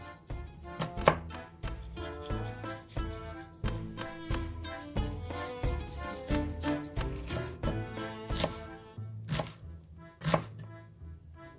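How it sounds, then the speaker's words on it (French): Knife chopping onions on a board for borscht, a steady run of crisp, close chops repeating through the clip with a few sharper, louder strikes, no talking. "Émincez les oignons."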